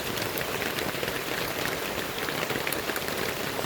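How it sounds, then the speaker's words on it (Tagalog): Heavy rain pounding steadily on a roof, a dense, even hiss of drops that stays close and loud throughout with no pauses. "Lakas ng ulan."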